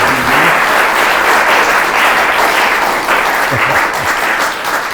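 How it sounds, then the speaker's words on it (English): Loud, sustained audience applause fills the room for panelists after an evening arts and culture discussion, steady and dense throughout with no talking. "give our panelists such a big round of applause for such an insightful conversation this evening"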